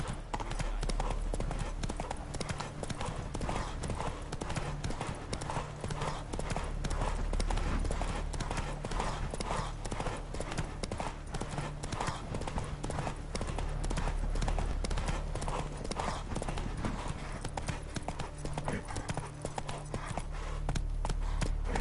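Horse hooves in The Witcher 3: Wild Hunt clip-clop in a fast, steady galloping rhythm, loud and close, continuing without pause over low game ambience.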